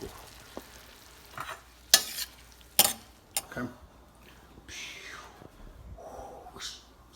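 Orecchiette pasta with fava beans, prosciutto and black pepper cooking together in a pan, with soft stirring scrapes, a few sharp utensil clinks and low sizzling, near and moderately quiet.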